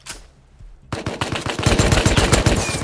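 After a quiet moment, rapid automatic gunfire erupts and keeps going, loud and close, in dense repeated bursts, in a video game fight over an oil rig.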